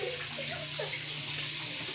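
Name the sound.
water poured into cooking pot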